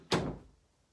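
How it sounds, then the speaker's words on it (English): A door is pushed shut in a home quilting and sewing studio, giving a single soft thump near the start that dies away quickly into quiet. "let me close the door."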